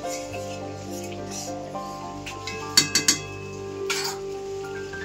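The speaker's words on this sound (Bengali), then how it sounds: "তরকারিটা একটু শুকনো শুকনো হয়ে গেছে, এবার আমি ঢেলে নেব" Drumstick and potato curry tipped out of a wok, with close metallic scraping and three quick bright clinks of a spoon against the pan, no talk.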